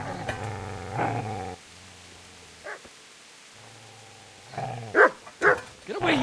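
A dog in the video game Kingdom Come: Deliverance snarls and barks, with low rumbling growls followed by several sharp, loud barks near the end.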